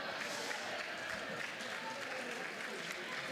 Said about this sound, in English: Crowd still appreciating the effort there from Weatherby.